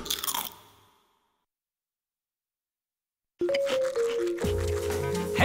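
Crunchy honey-glazed toasted breakfast cereal being eaten: a loud crunching bite that dies away, a stretch of silence, then renewed crunching and chewing along with a bright chiming ding.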